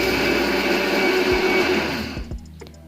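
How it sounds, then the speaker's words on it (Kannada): A mixer grinder whirs loudly and steadily blending a peanut and onion mixture, then winds down and stops, leaving a few clicks and faint rattles. "ಈಗ ಮಿಕ್ಸಿ ಮಾಡ್ತಾಯಿದ್ದೀನಿ ನೋಡಿ ಎಲ್ಲ ಸೇರಿಸಿ."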